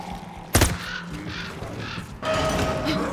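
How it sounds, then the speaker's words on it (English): Crows caw amid gunfire and game ambience in Call of Duty: WWII Nazi Zombies, sounding when the player takes a hit, with a sharp shot followed by layered harsh calls under a steady background drone. "You'll hear like the crows when you get hit."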